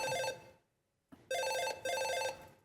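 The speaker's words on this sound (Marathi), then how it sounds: "काय रिंगटोन ठेवले ही फोनची" An electronic phone ringtone plays in repeated bright melodic bursts, separated by a short silent pause, fairly close and alone.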